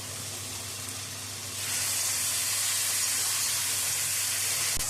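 Onion leaves drop into a hot frying pan for a fish curry, and a loud steady sizzle bursts up partway through and carries on, hissing evenly with no talk.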